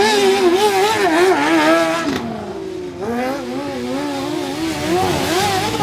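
Honda CBR 600 racing motorcycles in a class race, engines screaming loud and close with rising and falling revs as they shift gears and pass, with no voices.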